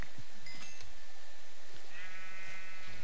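Sheep bleat in a Minecraft-style survival game, with two or three short bleats from nearby creatures layered over continuous game ambience.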